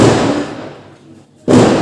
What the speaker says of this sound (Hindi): बाहर से पटाखों का शोर आ रहा होगा आप लोगों को